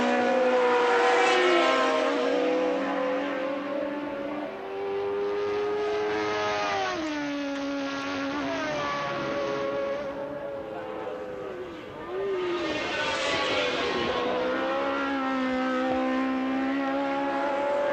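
Formula 1 race cars at the 1981 British Grand Prix scream past in a loud, sustained high-pitched engine wail, revs rising and dropping through gear changes as cars pass close by.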